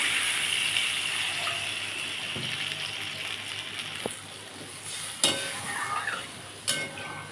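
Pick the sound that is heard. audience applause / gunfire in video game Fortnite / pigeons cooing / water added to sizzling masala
water added to sizzling masala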